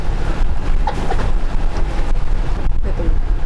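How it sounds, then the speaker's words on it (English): Beach waves slosh and churn against an anchored boat's hull amid gusty wind buffeting the microphone, a continuous rough rushing with no clear speech. "We got the waves pushing us right now."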